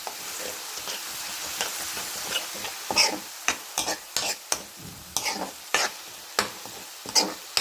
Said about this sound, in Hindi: और ये लहसुन भूनने के बाद मैंने इसमें डाल दिया है ऑनियन